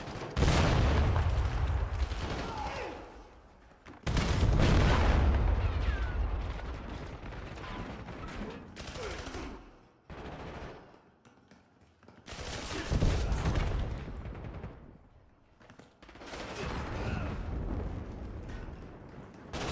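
Call of Duty Black Ops 7 battle with heavy bursts of gunfire and booming explosions, loud dense barrages that drop into brief quiet gaps and then surge back.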